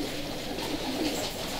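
Soft, low cooing of pigeons, continuous and overlapping, fairly near against a faint background hum.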